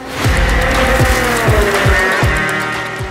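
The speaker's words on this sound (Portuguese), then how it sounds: "Pra ver os novos carros da nova geração da Stock Car na pista." New-generation Stock Car race cars at Interlagos scream past in a rapid series of loud, close engine passes, each with a sharp pitch drop, the roar continuous and dense throughout with no voices.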